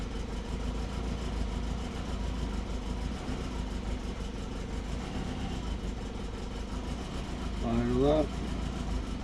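A car engine idles after an ECU update with a steady, low, rumbling drone throughout, briefly rising in pitch and volume near the end.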